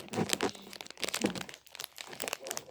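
A package being opened nearby, its wrapper crinkling and crackling in several quick bursts with short pauses between handling.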